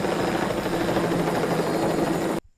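Helicopter rotor thrum heard in a film scene, a steady, dense chopping drone held at a constant level before cutting off abruptly near the end, with no talking over it.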